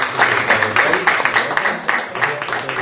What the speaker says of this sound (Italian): facciamo un applauso per la presenza